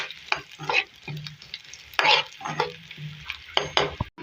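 Chopped garlic fries in a pan for a dal tadka, with stirring scrapes and spoon clatter over a steady sizzle in short irregular bursts, close and moderately loud.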